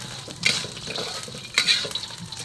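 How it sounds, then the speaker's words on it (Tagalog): Crab pieces sautéing in hot oil in a pan, a steady close sizzle with two bursts of stirring scrape and clatter, no voices. "Gigisain ko muna yung alimasag para may lasa-lasa yung mantika."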